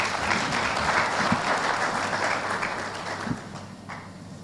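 An audience at the launch of a school protection squad applauds in a dense, sustained wash of clapping. It stays loud at first, then gradually thins and softens toward the end.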